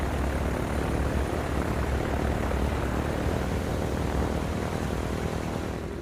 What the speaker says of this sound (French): 500 chasseurs Messerschmitt et une multitude de bombardiers en piqué, les Stuka